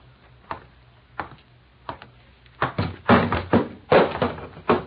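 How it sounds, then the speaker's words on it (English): Ashtrays get knocked over in a room, heard as a run of sharp knocks and clatters that start sparse and faint, then crowd together and grow louder toward the end, with no speech. "Oh, she knocks over ashtrays, too, eh?"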